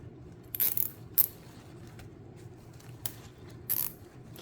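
A zip tie being fastened around a ribbon wreath gives a few short, crisp ratcheting zips in separate bursts, quiet and close, with no talking.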